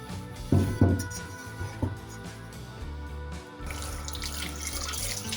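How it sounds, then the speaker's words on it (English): Tap water running over a pot being rinsed after cleaning with baking soda and lemon, first a few clattering splashes and knocks, then a steady close rush of flowing water. "So let's wash it out and see how it looks."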